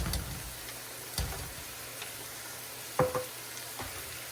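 Quiet sizzle of riced cauliflower shrimp fried rice in a hot pan as fish sauce goes in, a low crackling frying bed broken by a few small clinks and stirring taps.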